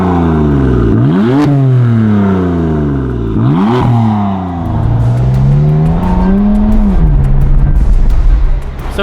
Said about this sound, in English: do you want to rev it a few times?